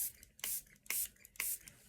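Water misted from a spray bottle onto cardstock paper for a craft technique, three or four sharp hissing bursts in quick succession, close and fairly quiet with short gaps between.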